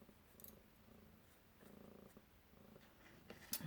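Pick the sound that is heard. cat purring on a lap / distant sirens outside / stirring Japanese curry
cat purring on a lap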